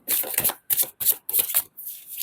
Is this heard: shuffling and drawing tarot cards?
yes